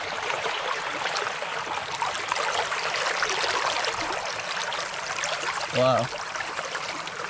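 Sediment-laden creek water flows steadily past, a close, continuous broadband rush and trickle with one brief spoken exclamation near the end.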